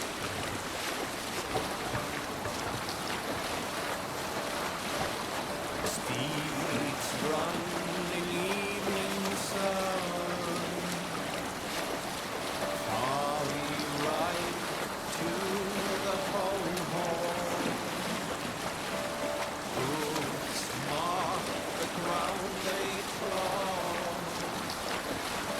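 A Viking longship under sail on the open sea in Assassin's Creed Valhalla, with a steady wash of waves and wind and creaking movement, overlaid by a chorus of voices and music throughout.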